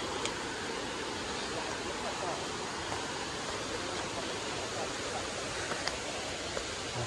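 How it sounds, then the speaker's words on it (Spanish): A river flows beside a rocky path of natural stone, giving a steady, continuous rush of water that stays even and close throughout. "Y vas todo el camino por al lado del río escuchando el sonido."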